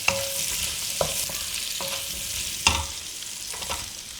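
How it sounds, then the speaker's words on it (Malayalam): Sliced onions, about eight to ten, fry in a pan for mutton stew, with a soft steady sizzle punctuated by several sharp clinks and scrapes of a utensil against the pan. "നമുക്കിനി ഇതിലേക്ക് സവാള ഇട്ട് കൊടുക്കാം."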